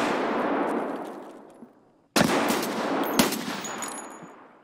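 Loud, close automatic gunfire in Escape from Tarkov: a long burst fading out, a short pause, then a sharp new volley with a few distinct punchy shots.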